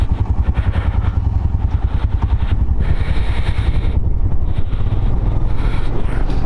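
Motorcycle engine running loud and steady while riding through cold, snowy high-altitude Ladakh near Umling La, shifting up through the gears, with heavy wind rush over the microphone throughout.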